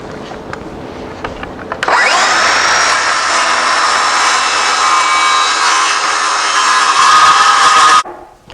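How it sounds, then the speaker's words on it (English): Skill saw (circular saw) ripping through wood for a feeder, a loud, close, steady high whine lasting about six seconds that starts sharply after a few faint knocks and stops abruptly. "So I'm using a skill saw to cut this."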